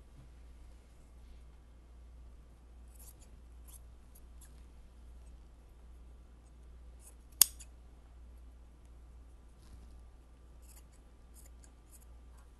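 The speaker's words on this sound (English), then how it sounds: "You want to make sure you cut it nice and even" Scissors make a single sharp snip through shirt fabric, close and brief, standing out against a quiet room hum with faint scattered rustles before and after.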